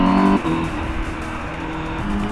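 A Honda CBR 1000 RR-R SP four-cylinder motorcycle with an Akrapovic exhaust on the road, a loud continuous engine roar holding a high tone, with a brief rising pitch near the start.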